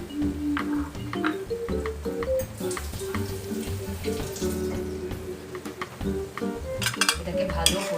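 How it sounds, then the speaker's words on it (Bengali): Ginger garlic paste is fried with onions in a pan for a Bengali chicken curry, with a soft frying hiss under close clinks and scrapes of a spoon against the pan. "এটা দিলাম, এটা দিয়ে আবার একটু ভাজবো।"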